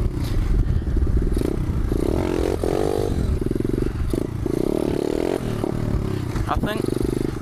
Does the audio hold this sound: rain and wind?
no